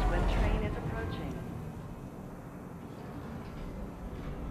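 Steady low rumble of a train ride in the game Star Citizen, a continuous rolling drone that is slightly louder at the start and evens out, with a voice audible over it.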